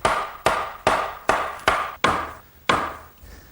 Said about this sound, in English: carefully slip these together and drive them down with my mallet